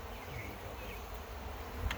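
Worker honey bees buzz in a dense, continuous hum, close and steady throughout with no voices.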